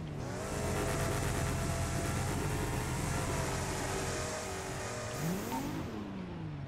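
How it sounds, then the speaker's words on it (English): Car doing a burnout in the video game FiveM during a small-tire racing roleplay event: a steady, loud engine roar with droning harmonics held throughout, rising in pitch near the end as revs climb. "Oh, they're still doing the burnout."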